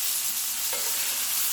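Ribeye steak sizzles and spits in a hot tilted pan as infused butter is spooned over it, a bright continuous frying hiss with a brief liquid splash of basting partway through.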